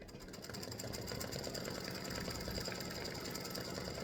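An embroidery machine runs a rapid, steady satin stitch around freestanding lace Halloween earrings, a close mechanical needle chatter with motor hum throughout.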